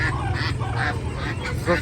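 Ducks at a morning market in Pakse, Champasak, Laos, giving a few short nasal honks and quacks over a steady low market rumble and nearby voices.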